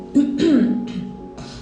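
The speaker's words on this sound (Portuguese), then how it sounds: "Eu tô com pigarro." A man clears his throat with a few short rough bursts, close and fairly loud, separated by brief pauses.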